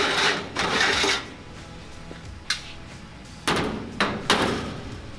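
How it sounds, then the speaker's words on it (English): Several sharp metallic clanks and scrapes, with a couple of longer sliding rasps early on, as a stainless steel baffle filter and filter packs are pulled from a ventless kitchen hood nearby. "pull out the fire-rated pre-filter, and then pull out the high-efficiency and carbon charcoal filter pack"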